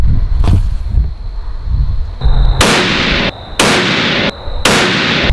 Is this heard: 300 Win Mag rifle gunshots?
yes